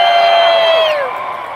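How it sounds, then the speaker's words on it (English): Cosplay contest audience at a comic convention cheering and whooping with a loud sustained roar, high voices swooping and trailing off near the end. "you got to cheer loud for everybody"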